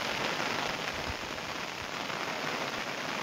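Heavy monsoon rain pours onto a farm field just sown with pigeon pea, a dense, steady hiss of drops drumming on surfaces with no pause, close and loud, with no voices.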